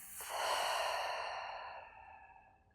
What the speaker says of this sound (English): Exhaling out the mouth